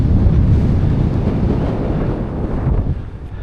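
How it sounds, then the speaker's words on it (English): Strong, steady wind roars and buffets across a Lake District fell summit, a dense low rumble battering the microphone without pause. "that wind shear has picked up on the return, that's for sure"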